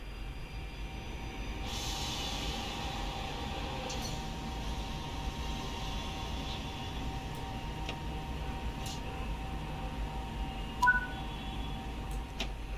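An SNCF train in the simulation game Train Sim World 5 idles before departing toward Aix-en-Provence, giving a steady low rumble and hum with a few faint clicks and one brief higher sound.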